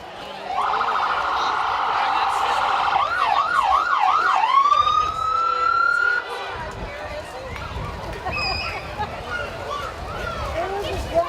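A new fire department ambulance passes in a small-town Pioneer Days parade, its siren sounding loud and close. A steady tone changes into a fast yelp and then a rising wail, which cuts off and leaves crowd noise and faint further calls.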